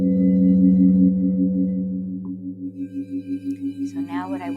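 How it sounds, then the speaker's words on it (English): Crystal Tones singing bowls sounding 528 Hz love frequency tones, several steady sustained pure tones ringing together, then fading into a slow pulsing waver as a higher shimmering tone enters; no talking. "share these 528 love frequencies with you from Crystal Tones"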